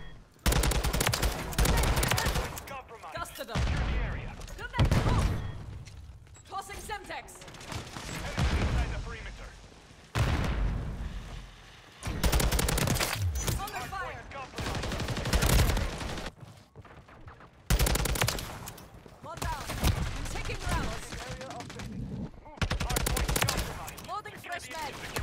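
Rapid gunfire from a Taq 56 rifle in Call of Duty: Modern Warfare III, repeated loud bursts throughout, with a player talking over the shooting.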